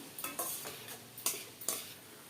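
Onions with salt are stirred in a pan for an egg curry with drumstick flowers. A spoon scrapes and taps against the pan in short, irregular strokes over a faint sizzle, close and fairly quiet.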